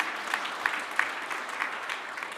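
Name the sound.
applause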